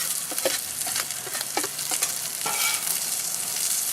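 Shrimp go into a hot paella pan, raising a loud, steady sizzle with scattered clinks and scrapes of stirring throughout.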